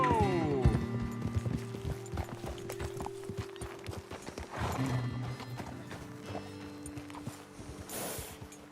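Horse hooves clip-clop steadily in Red Dead Redemption 2, fairly close and moderately loud, with an occasional whinny, a game score playing underneath and a voice briefly speaking.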